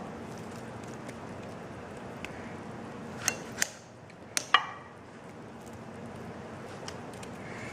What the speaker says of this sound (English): I am just slicing them in big chunks